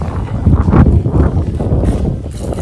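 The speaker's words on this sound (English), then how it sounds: "the wind got bad during this clip" Strong wind buffets the microphone outdoors in a spring garden, producing a loud, continuous low rumble with gusty swells and no voices.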